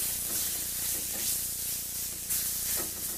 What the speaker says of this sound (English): while the steaks are cooking